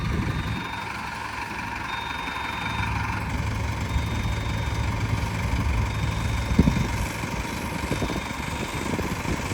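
A Turbo 595 tractor engine idles steadily in a field for maize sowing, a continuous low rumble with a faint whine, close and moderately loud with no talk.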